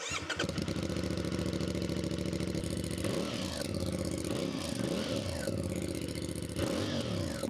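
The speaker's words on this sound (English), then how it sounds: "a proper motorcycle, which is the impression this one creates with the sound of the exhaust" A CFMoto CLC 450 motorcycle exhaust idles with a deep, steady, throbbing burble, loud and close, with slight rises in the rumble now and then.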